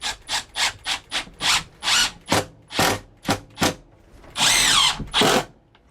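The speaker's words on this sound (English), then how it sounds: "So we can actually just go ahead and screw this right in place." Power drill driving screws to fix a MaxxFan Deluxe roof vent cover in a 2022 Grand Design Imagine travel trailer, in a rapid run of short, loud whirring bursts followed by two longer strained runs, close up.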